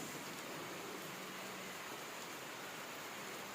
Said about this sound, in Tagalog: kasi ulan ng ulan dito